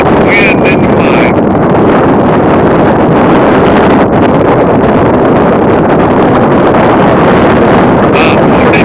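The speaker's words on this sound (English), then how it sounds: "winds are 15 to 25 today, so there's nothing good about the wind in the mud" Strong wind gusting at a drought-stricken lake roars steadily and loudly across the whole stretch, buffeting the microphone with a dense, continuous rush and a few faint higher tones.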